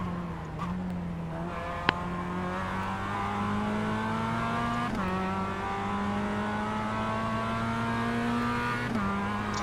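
Race car engine in the iRacing sim game holds a steady, loud drone under sustained throttle, its pitch rising slowly with brief shift dips near two, five and nine seconds, continuous without pauses.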